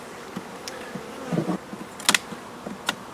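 Honey bees humming steadily in an opened hive during a colony inspection, with individual bees buzzing past close by now and then over the constant drone.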